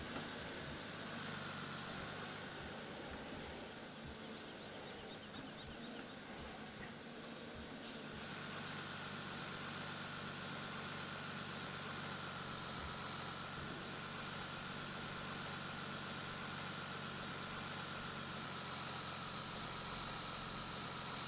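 A tractor idling in Farming Simulator 17, with a steady low engine rumble and hum that continues evenly and fairly loud throughout, with no voices.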